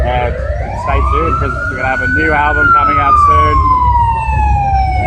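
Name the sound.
emergency vehicle sirens passing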